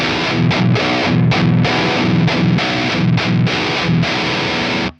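An electric guitar played through a Synergy amp module with heavy distortion: thick, full chugging riffs with strong low end and rhythmic palm-muted stops, loud and close with no talking.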